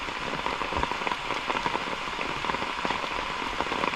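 Rain falls steadily on a river during fishing, a dense even patter of drops hitting water and nearby surfaces, moderately loud and continuous without talk.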